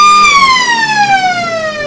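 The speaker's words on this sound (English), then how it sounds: "I'll just wait for the siren to finish on the background there, Billy." A wailing emergency vehicle siren sounds in the background near an outdoor suburban football ground during an EFL match, a steady high tone gliding slowly downward for the whole stretch without pause.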